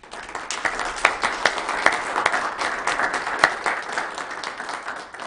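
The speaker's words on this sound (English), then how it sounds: "if you'd join me in giving Mr. Brunker a round of applause" An audience at a Weber County meeting applauds Mr. Brunker, steady clapping from a crowd with a few sharper claps standing out, sustained throughout without speech.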